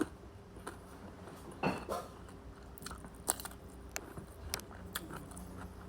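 Crunchy food is bitten and chewed at a breakfast meal, giving quiet, close crunches and a few sharper bites over a low background hum. There is no talk.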